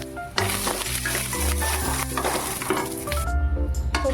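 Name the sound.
frying bori lentil dumplings in a pan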